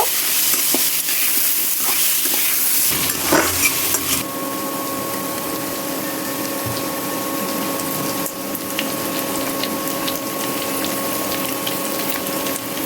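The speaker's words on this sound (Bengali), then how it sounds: "পেঁয়াজ আর আলুটা এখন একটু লাল লাল করে ভেজে নিব।" Onion and potato fry in hot oil in a pan, a steady, close hiss of sizzling that carries on evenly, with a faint tonal hum underneath and a brief clatter partway through.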